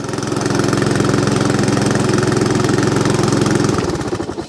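Honda HRX 537 or Hayter Ranger 53 lawn mower engine running loud and close with a steady rapid thumping idle, then cutting out and sputtering to a stop near the end.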